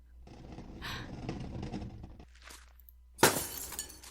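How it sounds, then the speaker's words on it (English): Glass breaks inside a greenhouse in the video game The Last Door, a sudden sharp shatter that follows soft shuffling, thumping movement, fairly close and without talking. "we can actually hear that glass that breaks"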